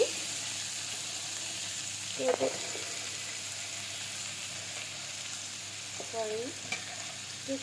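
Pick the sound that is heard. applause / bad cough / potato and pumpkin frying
potato and pumpkin frying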